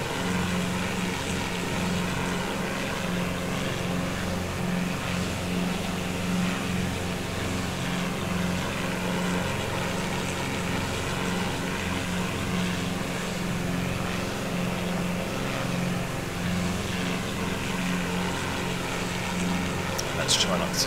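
A simulated aircraft engine hums steadily during a low pass over an airport in the Prepar3d flight simulator, a continuous propeller-like drone at moderate level with someone talking over it.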